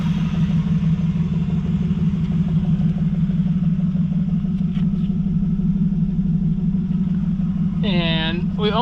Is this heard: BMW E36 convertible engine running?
yes